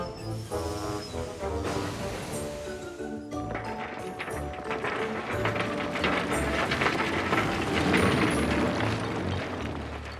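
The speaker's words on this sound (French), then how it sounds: "Il repart aussitôt avec les wagons remplis de charbon que Ben avait ignorés un peu plus tôt." A cartoon steam engine pulls away with wagons full of coal. Rhythmic mechanical chuffing and clanking build steadily over a bed of music, getting denser and louder as it gets under way.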